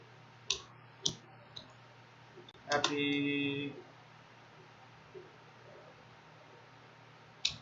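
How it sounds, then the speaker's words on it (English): A computer mouse gives several sharp, isolated clicks spaced seconds apart, close and crisp, with a brief electronic chime sounding in the middle against a quiet hum. "Click here, left click, right click, edit."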